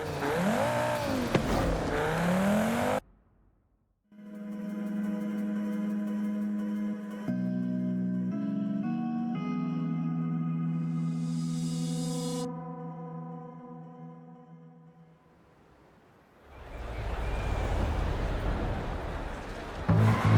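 A Volvo C30 Polestar built to 600 bhp in Forza Horizon 5 drives off, its engine drone climbing and shifting in pitch through the gears, dropping briefly to near silence, then returning as a rougher, noisier roar.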